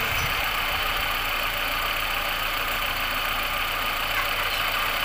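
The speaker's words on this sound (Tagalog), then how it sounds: "Ito yung makina niya." Steady hum of a used car's engine idling, constant and fairly close, with a faint ticking texture and no voices.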